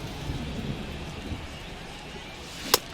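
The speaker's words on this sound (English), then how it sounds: "It feels like we might be headed towards a rain delay if the weather doesn't ease up, Chris" Steady rain hisses in a stadium during a rainy baseball game in MLB The Show 23, with a low rumble of thunder and one sharp crack near the end, and no voices over it.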